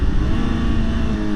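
Motorcycle exhaust picked up close from a camera mounted under the bike, a steady loud engine drone with a low throbbing rumble and no pauses, heard alone.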